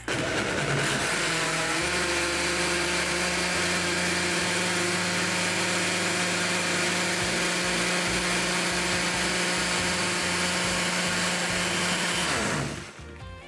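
A blender whirs loudly and steadily while blending mangoes, its motor pitch shifting a few times before it cuts off near the end, with no talking over it.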